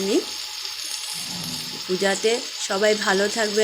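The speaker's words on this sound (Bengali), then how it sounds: "পটলগুলোকে খুব ভালোভাবে লবণ আর হলুদ দিয়ে ভাজা করে নেব" Pointed gourd fries in hot oil with salt and turmeric, a steady sizzle running beneath someone talking close by.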